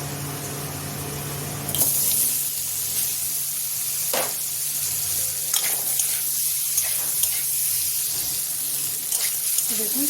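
Paneer frying in oil, a soft steady sizzle after a brief quieter start, with occasional clinks and stirring clatter from the pan, fairly close but low in level.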